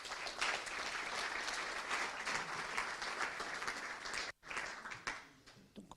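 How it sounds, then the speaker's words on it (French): An audience at a technical presentation applauds with dense, steady clapping that fills the room. The applause breaks off sharply, then picks up again briefly before fading. "On peut vous applaudir encore une fois."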